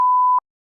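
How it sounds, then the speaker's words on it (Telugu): A single short electronic beep sounds alone at a steady pitch, then cuts off into silence. "బీప్ అండి అదండి"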